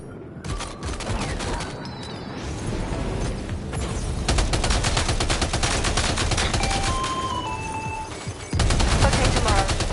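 Dense gunfire rattles through a Death Stranding 2 firefight in rapid automatic bursts and overlapping shots, loud and continuous, with brief game tones sounding in between.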